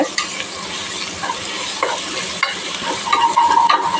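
Ginger garlic paste sizzles in a pan with frying onions and spices for vegetable ghee rice, a steady hiss broken by stirring scrapes and a few sharper clinks, close and fairly loud with no talking.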